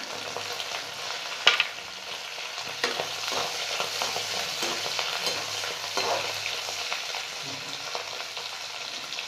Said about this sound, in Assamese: মাছকেইটা মানে মই একদম অকণমান এনেকৈ তেলতে ভাজি ল'ম